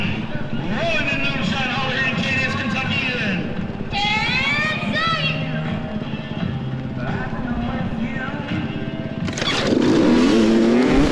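Dirt bikes, including 150 and 300 machines, accelerate hard off the start line of a motocross race, with engines revving and rising in pitch and a loud surge near the end while a person talks.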